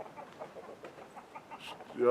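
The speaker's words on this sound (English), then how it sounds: "I'm always getting distracted by these chickens." Chickens cluck softly in short, scattered bursts nearby, quiet and intermittent, ending with a slightly louder squawk.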